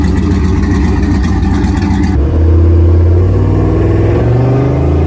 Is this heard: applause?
no